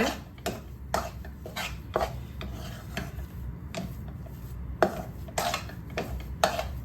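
Jaggery being stirred into pearl millet dough in a pan over a low to medium flame, heard as repeated close scraping and knocking of a spoon against the pan in an irregular rhythm.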